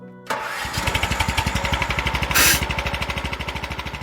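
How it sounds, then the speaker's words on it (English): A small engine cranks and catches, then chugs in a fast steady rhythm like a lawnmower running up, loud and close with no voices. "I hear the lawnmower starting up."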